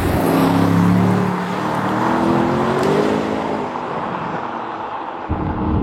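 A 2025 Aston Martin V8 Vantage accelerates hard with a loud, rising V8 roar and rushing wind noise, the engine note climbing and easing over several seconds with no talk.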